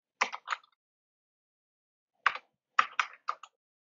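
Short bursts of computer keyboard typing while entering a package name in Ubuntu 22.04, a quick cluster of clicks, a pause, then a second flurry of crisp, close keystrokes with silence between.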